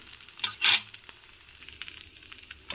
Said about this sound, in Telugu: ఊరకొక సెకండ్ బాగా కాలనిద్దాము